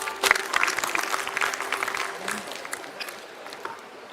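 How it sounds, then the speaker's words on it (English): An audience at a Philippine maritime conference breaks into applause, a burst of scattered clapping that peaks early and then gradually thins and fades out. "Let's give him a round of applause."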